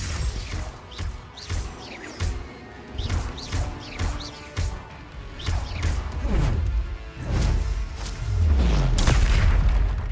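Magical fire-blast explosions in the video game Hogwarts Legacy, a rapid series of booming crashes and impacts building into a heavier rumbling barrage, loud and without talking.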